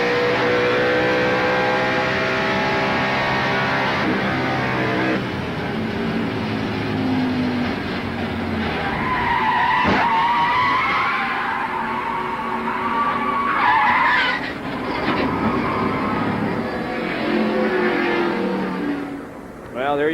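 At Darlington in the 1990 TranSouth 500, a NASCAR race car hits its own oil, spins with long squealing tire skids and revving engine, then backs into the wall with a sharp crash, while engines roar loudly throughout.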